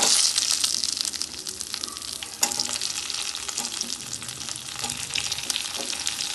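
Potatoes with salt sizzle in a frying pan with browned ingredients for a bottle gourd greens, bean and tomato stir-fry, a steady close hiss with occasional stirring clatters and no speech.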